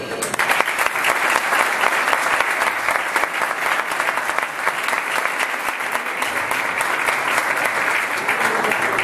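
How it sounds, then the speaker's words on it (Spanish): A large lecture audience gives a strong, sustained round of applause welcoming a speaker at a talk on the economic crisis, a thick, even wash of clapping holding steady for about nine seconds. "que le dé un fuerte aplauso"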